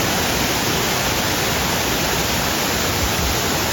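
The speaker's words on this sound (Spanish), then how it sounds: "Tremenda la fuerza que tiene el agua. Vamos a sacar el micrófono para que escuchen." Rushing water of a waterfall in a city park, a loud, steady broadband roar filling the whole clip with no voices.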